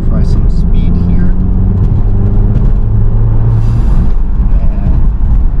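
A lowered Audi TT MK2 on H&R lowering springs accelerates in a steady, loud low engine and road rumble with rising tonal lines, and a voice can be heard over it.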